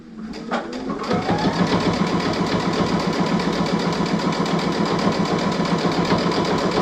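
Sewing machine stitching a fabric placemat, a steady fast mechanical hum with rapid needle chatter that starts after a second of handling noise and runs continuously, close and fairly loud.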